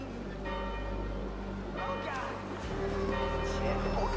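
Church bells peal in Assassin's Creed Valhalla, a steady ringing of several bells with sustained overlapping tones that shift in pitch partway through, heard at moderate distance under soft ambient game sounds.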